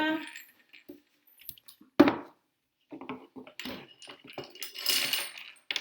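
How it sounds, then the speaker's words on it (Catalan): Chestnuts tumble into a perforated roasting pan with a hard, rattling clatter of several knocks and clinks, a sharp impact standing out near the middle, while a voice speaks nearby. "La paella foradada Posem les castanyes a torrar."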